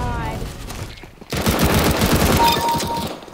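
Rapid automatic gunfire from a CS:GO Arms Race match bursts in loud after a brief lull, sustained fire with a voice faintly mixed underneath.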